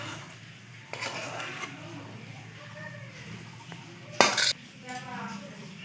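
Utensils clink and scrape against dishes while paneer bhurji is served, with a few sharp metallic clatters, one louder burst near the end and a voice faintly in the background.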